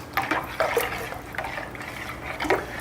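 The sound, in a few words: stirring salt into hot water for pastrami brine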